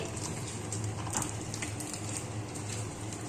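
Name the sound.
katla fish pieces frying in oil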